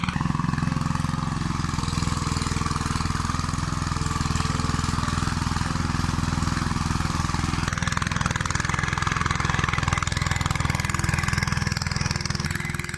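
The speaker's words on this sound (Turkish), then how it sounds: "Ancak o işi şimdi el traktörleri yapıyor." Two-wheeled hand tractor with a small engine plowing a field in Turkey's Black Sea region, a loud continuous chugging drone with a shift in tone partway through, no talk.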